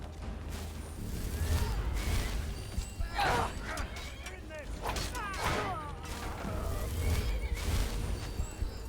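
Horse whinnying in Skyrim, several rising and falling neighs around the middle amid game clatter and background music, with a voice talking over parts of it.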